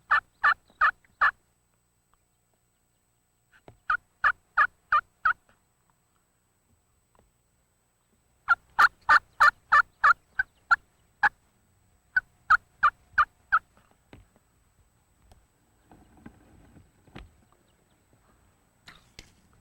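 A wild turkey gobbler calls during a spring hunt: loud gobbles come in four bursts, each a quick run of rapid pulses, followed by softer rustling near the end.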